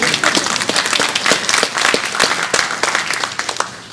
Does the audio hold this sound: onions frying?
no